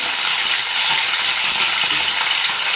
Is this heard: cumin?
yes